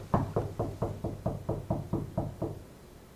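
Knuckle knocks on a wall directly over a stud, about ten firm, slightly higher-pitched and more solid raps in an even rhythm, close and with no voices.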